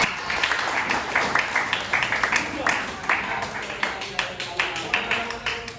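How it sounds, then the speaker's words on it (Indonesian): A classroom of students claps for group 3 after their presentation, a fairly loud, rhythmic patter of many hands in a steady beat, with some voices mixed in. "Tepuk tangan buat kelompok 3."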